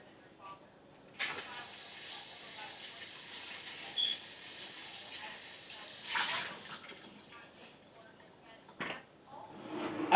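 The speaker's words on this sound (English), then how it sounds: "I'm gonna rinse this bowl right here out." Tap water runs into a bowl with a steady hissing splash for about six seconds, then stops, followed by a few short clinks and splashes.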